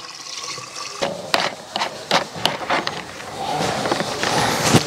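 Water fills a container with about three liters for a garden spray mix, opening with a few sharp knocks and splashes before settling into a steady, close rushing pour.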